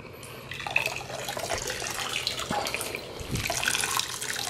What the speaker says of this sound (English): I'm gonna spray off this soapy water